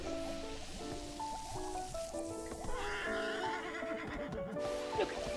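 Horse in the video game Infinity Nikki letting out a loud, drawn-out neigh over steady game music and rain-like ambience, with a short whinny burst near the end.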